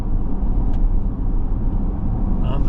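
A 2024 Dodge Durango GT SUV drives along a curving road, its steady low engine and road rumble heard from inside the cabin, with a brief faint voice near the end.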